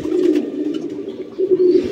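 Pigeons coo inside a newly built pigeon house with a cork-sheet roof, low rolling calls close by in two bursts separated by a short pause.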